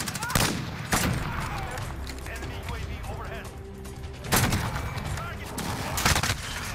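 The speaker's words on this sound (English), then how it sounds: "Shoot the damn gun!" Rapid bursts of gunfire in the Modern Warfare shooter game, sharp cracks and clustered volleys scattered through, with players talking over the action.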